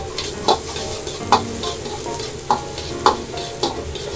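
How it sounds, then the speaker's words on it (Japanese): Onions stir-fry in a pan over medium to low heat, a close, steady sizzle punctuated by regular scraping stir strokes roughly every half second to second, with no talking. "透明感が出るまで炒めていきます"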